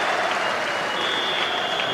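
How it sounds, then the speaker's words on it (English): Football crowd at the 1995 Scottish Cup Final between Camelon and Whitburn applauding a substituted player leaving the pitch, a steady wash of clapping that holds at one level throughout. "So Derek Haston was off to huge applause."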